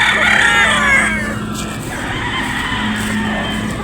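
A Sweater Boston gamecock crows once near the start, loud and close, its call trailing off over a steady background hum.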